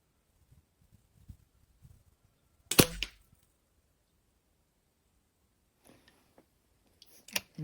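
Sharp isolated Shanghai B1-1 air rifle shots with Luman pellets: one loud crack, then a quieter burst and a couple of snaps later, separated by near silence with faint background rustle.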